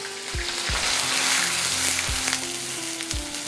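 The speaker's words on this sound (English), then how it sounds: "first heat the oil and we are going to fry grated onions" Grated onions and a bay leaf fry in hot oil, giving a steady close sizzle with a few sharp pops and stirring knocks throughout.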